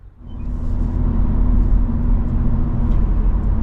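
A 2024 Acura Integra A-Spec with the Tech package pulling away, its low engine rumble rising quickly and then holding as a steady road drone.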